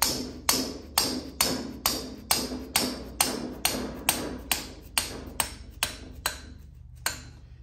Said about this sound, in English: just tap it with your dead blow hammer.